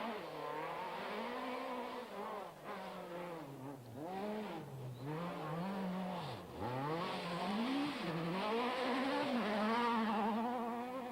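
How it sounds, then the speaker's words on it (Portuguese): Renault Megane Maxi rally car racing on a rally stage in the Azores, its engine loud and close, revving hard with rising and falling pitch as it shifts and brakes through corners, with no talking. "José Carlos Macedo e Miguel Borges, no Renault Megane Maxi, eram sextos da geral e líderes do escalão das duas rodas motrizes"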